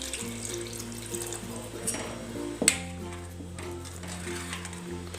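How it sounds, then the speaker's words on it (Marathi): Spinach water pours into a mixer jar in a home kitchen, a steady close splashing flow with a sharp clink midway, no talk. "आता हे ते पालकाचं पाणी घेतलं होतं आपण, ते मिक्सरमध्ये घालू"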